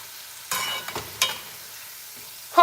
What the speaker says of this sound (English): y'all look, we're frying the fries, okay? The fries are frying to perfection.